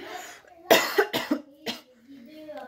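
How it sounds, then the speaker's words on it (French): A person coughs several times in short, sharp bursts close to the microphone, then a few quiet sounds of breath and voice follow. "je vais tousser"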